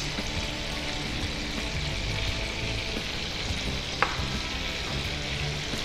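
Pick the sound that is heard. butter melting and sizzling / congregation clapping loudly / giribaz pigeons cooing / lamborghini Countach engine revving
butter melting and sizzling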